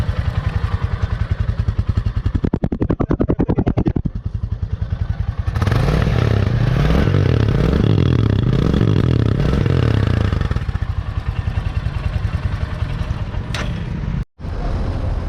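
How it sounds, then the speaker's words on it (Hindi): A single-cylinder Royal Enfield Bullet 350 motorcycle engine idles with a steady thumping beat, close and loud, with a brief rise in revs midway. "ये इसकी आइडल की आवाज़ है बुलेट की।"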